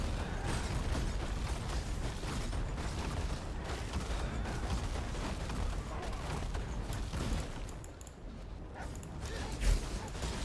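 Bolt-firing statue traps in the Path of Exile video game fire a dense, continuous rattle of mechanical clicks and impacts, loud and busy, with a brief lull near the end.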